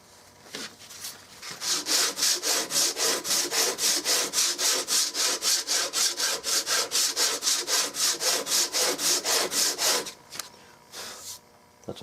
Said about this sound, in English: That's a lot of sanding.